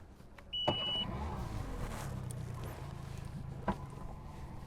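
A boat's gas outboard motor running on a Quebec lake during a fishing trip, heard as a faint, steady low drone, with a short electronic beep near the start and a single knock later.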